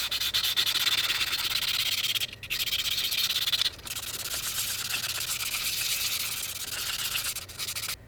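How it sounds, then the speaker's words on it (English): Resin being sanded smooth with 400 grit sandpaper: a loud, steady, close-up rasping rub that runs almost continuously, with a few brief pauses as the paper lifts off. "I'm just going to hit it once more with the 400 grit just to get it back down to the 400 grit smoothness"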